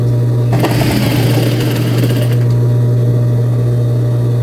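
A sewing machine runs a steady, fast mechanical whir of stitching for about two seconds as it widens a trouser seam from the pocket opening to take in the waist, then idles with a constant low hum.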